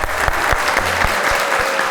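Dense studio audience applause at a Pakistani music talk show, steady loud clapping filling the space with no voices over it.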